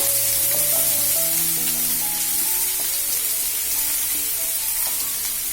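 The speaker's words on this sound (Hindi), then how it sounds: "गैस को सिम कर दीजिए, प्याज डाल दीजिए। इसको चलाते रहिए।" Chopped onions fry in a pan over a low flame for murmura poha, giving a loud, close, continuous sizzle that stays even throughout with no talking.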